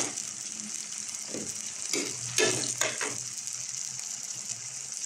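Sardines sauté in a hot pan with a continuous sizzle, broken by a few louder bursts of hissing as they are stirred and turned.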